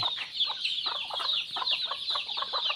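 Flock of chickens at morning feeding, a dense chorus of clucking and chattering close by, with high shrill calls running steadily throughout.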